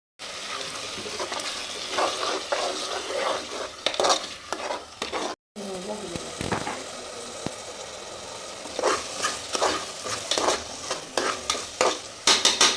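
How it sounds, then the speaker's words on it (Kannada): Ground tomato and green chilli paste fries and sizzles in a pan for tomato bath, with repeated scraping stirs and clatters of the spoon over a steady sizzle, close and continuous apart from one brief cut. "ಈಗ ರುಬ್ಬಿರೋಂಥ ಟೊಮೊಟೊ ಮತ್ತು ಮೆಣಸಿನ್ಕಾಯಿ ಹಾಕ್ತಾಯಿದ್ದೀನಿ ಇದನ್ನು ಚೆನ್ನಾಗಿ ಫ್ರೈ ಮಾಡ್ಕೋಬೇಕು"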